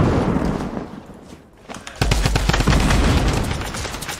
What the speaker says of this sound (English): Shooting him down.